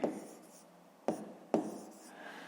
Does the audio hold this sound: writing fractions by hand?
yes